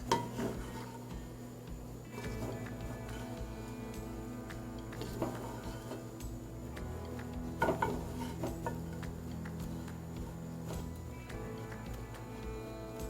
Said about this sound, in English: And we're going to keep turning our croutons.